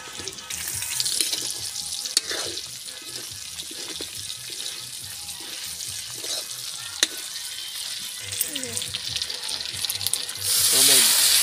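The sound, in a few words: water being poured in for cooking lechon paksiw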